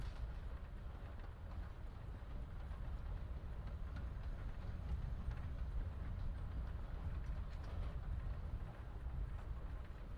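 Steady low rumble of a moving train carriage in Life is Strange: Before the Storm, a continuous rolling drone with faint rattling and no speech over it.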